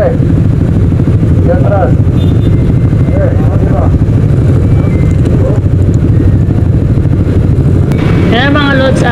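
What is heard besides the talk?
motorcycle being ridden onto a ship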